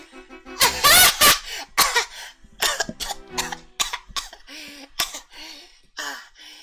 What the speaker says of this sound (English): she started to cough and almost choke